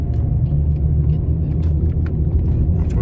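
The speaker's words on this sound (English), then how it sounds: "Hit the gas, bro. Let it move." A truck's engine rumbles loudly and steadily from inside the cab while driving in traffic, a continuous low drone with road noise throughout.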